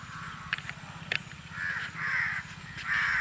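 Crows cawing repeatedly outdoors, harsh calls coming in a steady series, with a low background hum underneath.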